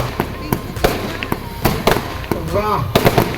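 Fireworks display at the Dewa Sharif fair, with a rapid series of sharp bangs and crackles, some near and loud, others further off, and a whistling rise among them while a crowd voice talks over it.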